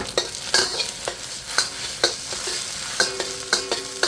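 Stir-frying ingredients for Thai pineapple fried rice with basil and cashew nuts in a hot pan: repeated scraping, clattering stir strokes in an uneven rhythm over a steady close sizzle, with no talking.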